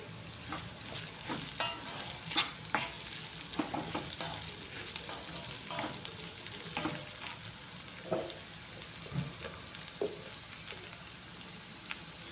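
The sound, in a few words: curry leaves frying with bitter gourd in a pan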